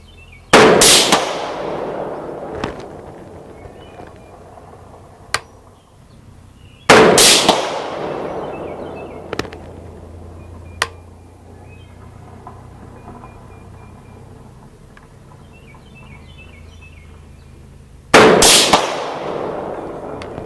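Three loud, sharp rifle shots fired at a shooting range during a Sightmark Rapid AR 3-12x32 scope test at 200 yards, each a hard crack with a long rolling echo, spaced several seconds apart with quiet outdoor ambience between.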